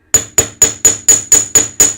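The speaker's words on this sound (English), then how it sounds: "So when you're hammering, be sure not to dip your the face of your chasing hammer" A chasing hammer strikes jewelry wire nine times in a steady, even rhythm, each blow a sharp, ringing metallic tap, close and loud with no talking.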